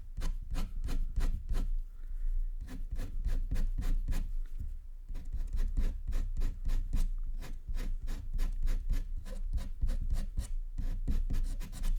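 A Caran d'Ache pastel pencil scratches across paper in quick repeated strokes, a close dry rhythmic rasping with short pauses between bursts of hatching.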